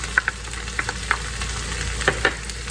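Potatoes frying in a skillet, a soft continuous sizzle with light, irregular clicks and taps of a utensil stirring in the pan, close and without talking.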